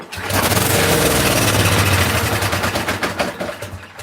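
Snowblower engine with a troublesome carburetor fires up on carb cleaner and runs hard for a few seconds, a loud, close, rapid sputtering roar that holds steady and then stutters and fades as the fuel runs out.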